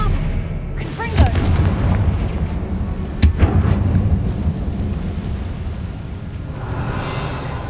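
Spell blasts thunder through a Hogwarts Legacy fight, a sharp boom near 1.2 seconds and another near 3.3 seconds over a dense, rumbling battle bed with voices mixed in.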